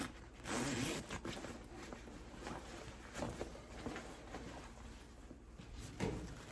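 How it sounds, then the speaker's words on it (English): Soft rustling and scraping of a large jacket zipper being fiddled with, irregular and quiet, amid fabric handling noise. "This zipper is insane. Look at the zipper."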